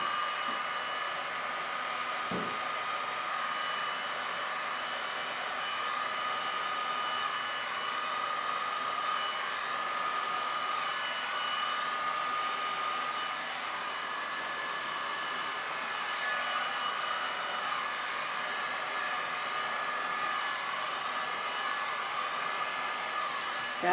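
A steady, whooshing stream of blown air, like a hair dryer, plays continuously over resin paint on canvas, close and even in level for the whole stretch, with no one talking.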